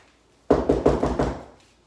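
Five firm knocks on a front door in a quick, slightly uneven sequence, close and distinct against an otherwise quiet room.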